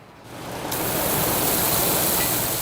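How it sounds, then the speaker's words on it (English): Cooling fans and water soakers in a dairy barn at J&K Dairy in Central Washington, a loud steady broadband rush of spraying water and blowing air that swells up within the first second and then holds constant. "The noise is constant at J&K Dairy, from fans to water soakers."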